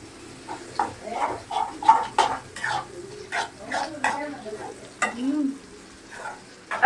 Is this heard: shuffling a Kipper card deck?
no